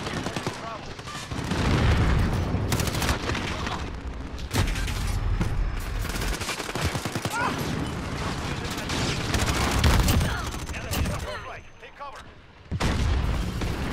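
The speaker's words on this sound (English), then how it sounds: "Ah, stop shooting at them." Dense gunfire in a shooter video game: rapid bursts and booming shots packed close together, loud and nearly continuous, with a short lull near the end.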